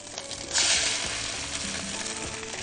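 Egg frying in a pan while cooking Upper Egyptian kishk: a steady close sizzle with a louder burst of crackling just after the start, then continuous frying hiss to the end, no talk.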